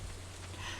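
Soft, steady patter of rain in the farming game Stardew Valley, a faint continuous hiss with a low hum beneath and no voices.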